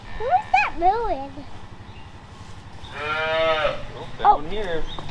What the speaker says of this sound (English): Who is that mooing?